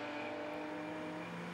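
A BMW E30 race car drives past on the Pukekohe circuit with a steady, sustained engine drone, even in level and moderately distant, heard alone without voices.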